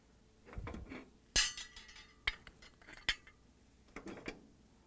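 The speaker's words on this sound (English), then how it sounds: "start with taking off the burner grates" Metal burner grates are lifted off a GE stove, giving several sharp clanks and clinks at close range with quieter scraping between them.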